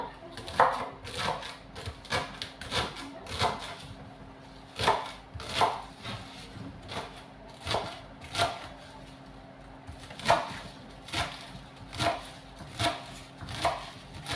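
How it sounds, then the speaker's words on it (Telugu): Radish leaves and stalks being chopped thinly with a knife on a board, a quick irregular run of sharp close taps and thuds, steady throughout with no talk. "ఇలా అయితే సన్నగా కట్ చేసుకోవాలి"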